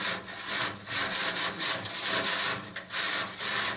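A chimney sweep brush scrubs back and forth against creosote inside a chimney, giving repeated loud, rasping strokes in a steady rhythm close by, with no talk.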